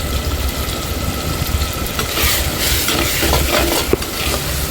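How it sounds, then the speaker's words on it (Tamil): A spoon scrapes and stirs garlic and curry leaves frying in oil for fish kulambu. The sizzle is steady and close, with repeated scraping and no voices. "பூண்டு கருவேப்பிலை போட்டு நல்லா கிண்டி விடுங்க."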